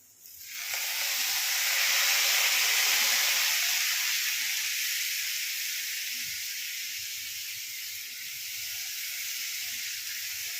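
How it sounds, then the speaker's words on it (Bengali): Water is sprinkled over jeera aloo in a hot pan, setting off a sudden loud sizzling hiss that swells quickly and then slowly fades over several seconds. "একটুখানি বাটি ধুয়ে জলটা রেখেছি, সেটা শুধু ওপর থেকে একটু ছড়িয়ে দেবো।"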